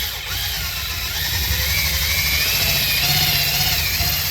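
A polishing wheel motor for buffing aluminum spins steadily with a coarse Harbor Freight buffing wheel mounted, a loud continuous whirring hum with a faintly wavering high whine, running alone without speech.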